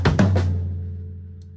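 A short linear drum phrase with ghosted left-hand notes, a few quick close hits followed by a ringing decay that fades out over about a second.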